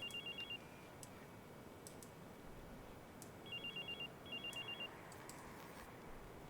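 A hacked mobile phone rings in the Watch Dogs game with short, high electronic trills in three separate bursts, faint against a quiet background hiss, with no talk.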